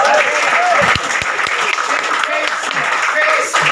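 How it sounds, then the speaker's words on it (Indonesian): A crowd applauds loudly and steadily throughout at a church seminar, a dense wash of clapping with voices mixed in. "Kasih tepuk tangan buat Yesus."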